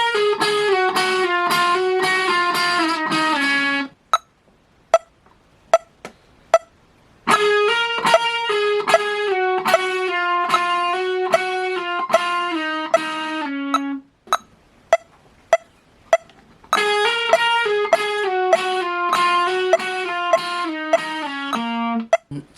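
A distorted electric guitar plays a riff, a repeated picked pattern with hammer-ons, pull-offs and slides, in three loud phrases separated by gaps of sparse single notes or clicks.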